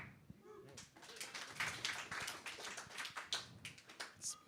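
A small audience at a book launch gives a round of applause, quiet scattered clapping from nearby hands in an irregular patter that rises and thins over a few seconds.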